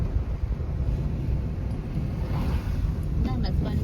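Water released from Dimbhe Dam during the monsoon, a loud, steady rushing roar with continuous wind buffeting the microphone throughout.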